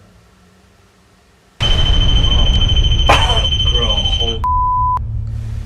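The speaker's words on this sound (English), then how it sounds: "You can make that device beep by the gate again." A REM pod ghost-hunting device in the HellFire Caves gives a sudden loud, steady electronic tone that holds for seconds, then shifts briefly to a lower beep, with a voice speaking over it.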